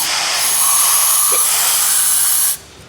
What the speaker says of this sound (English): I'm just going to spray some brake clean